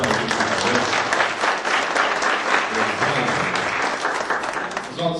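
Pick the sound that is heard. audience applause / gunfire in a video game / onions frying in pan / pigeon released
audience applause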